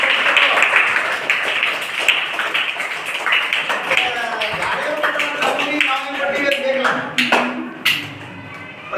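Clapping from a crowd at a government primary school event in Aliyabad, Vijayapura, honouring donors, with steady rapid claps throughout and voices mixed in.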